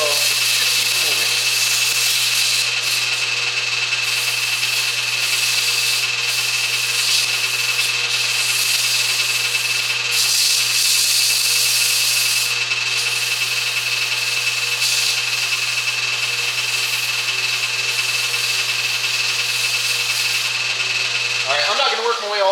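A wood lathe spins steadily with a high, even whine while sandpaper is held against the turning wood, giving a constant rubbing hiss throughout; a person talks over the work.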